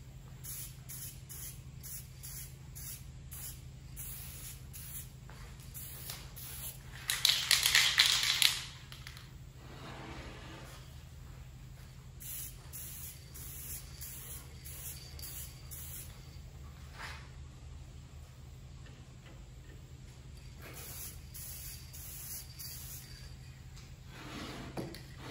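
Gray primer sprayed from an aerosol can onto an HO scale model locomotive, one loud hiss lasting about a second and a half, with quieter handling clicks and shuffling before and after.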